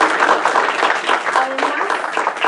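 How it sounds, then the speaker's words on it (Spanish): An audience at a labor-law lecture gives warm applause, a dense, steady wash of clapping that fills the whole stretch with some voices mixed in. "Así lo despedimos con un caluroso aplauso."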